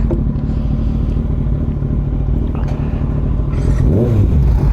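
A Yamaha R15 motorcycle engine running during a ride, a loud steady drone with rushing wind noise close to the mic and a brief rise in pitch near the end.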